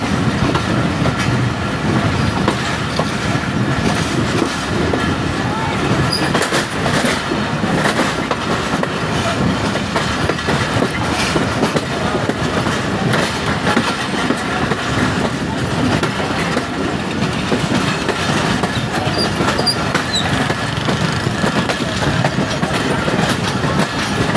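Inside a crowded passenger train coach running between Wazirabad and Alipur Chatha in Pakistan, a steady loud rumble of wheels and carriage noise fills the whole stretch, with faint clicking rhythm and some indistinct voices underneath.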